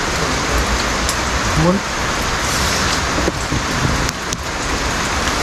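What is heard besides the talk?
rain falling at a cemetery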